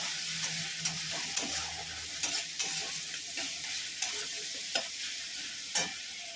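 Onion paste frying in a pan for egg curry, a steady close sizzle broken by repeated scraping clicks of stirring, with no talking.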